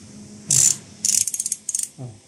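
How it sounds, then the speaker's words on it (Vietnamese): Spring mechanism of a Japanese Asahi chrome-plated hollow-body ratchet handle, quick bursts of sharp metallic clicking, close up in short rapid runs with brief pauses. "Con này anh em nghe tiếng lò xo nó cũng khác biệt nữa cơ"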